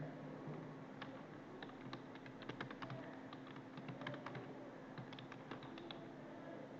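Someone types text on a computer keyboard while working in Paint, a faint, steady stream of light key taps over a low background hiss.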